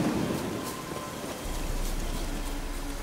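Steady rain hisses through The Witcher 3, with a low thunder rumble rolling in partway through. The storm is faint and continuous and has no voices over it.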